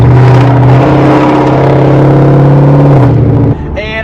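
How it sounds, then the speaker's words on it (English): A car straight-piped from the headers back with no catalytic converters or mufflers roars extremely loud and close, holding a steady droning note that shifts slightly in pitch before it drops away near the end. "fully straight pipe my car from the headers back, no cats, no mufflers, and it was ridiculously loud."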